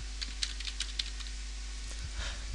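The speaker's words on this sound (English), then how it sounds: "I'm going to try typing Chromium and see if it comes up with a download link." Quick burst of typing on a computer keyboard, light close clicks in an irregular run over a low electrical hum, no voices.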